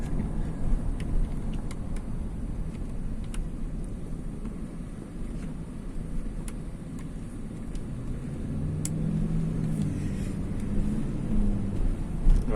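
A 2007 Toyota Tundra King Cab pulls away under acceleration, its engine a low steady rumble that swells gradually with a rising drone near the end, heard from inside with faint clicks and no talk.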